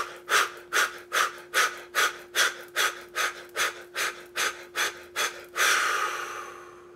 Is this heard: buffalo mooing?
no